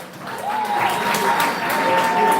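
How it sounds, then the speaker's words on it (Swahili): An audience at the Gusii Creative Awards 2020 ceremony breaks into applause, a dense, steady clapping that swells after a quieter start and carries on loudly and evenly throughout, with no speech over it. "Wapige makofi."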